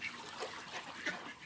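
Ducks being fed bread quack faintly in a short, soft burst of a couple of calls against outdoor background noise.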